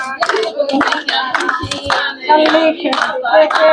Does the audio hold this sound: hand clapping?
yes